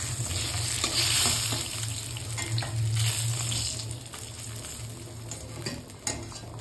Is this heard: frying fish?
yes